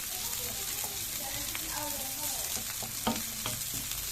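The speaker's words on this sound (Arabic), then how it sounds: "بس هاخد بس تشويحه صغيره كده الثوم وخلاص" Garlic sizzles briefly in a hot pan, a steady frying hiss broken by a few scrapes and clicks of a stirring utensil near the end.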